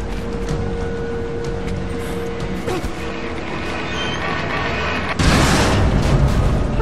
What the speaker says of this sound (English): Oh, I destroyed the tracks.